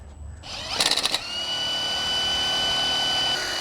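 An impact wrench bursts in a quick rattling volley, then keeps an alternator spinning on a bench test with a steady high whine that stops just before the end.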